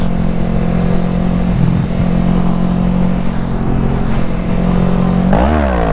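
A motorcycle engine drones loud and close in a steady gear, its pitch holding then sweeping upward as it revs hard near the end.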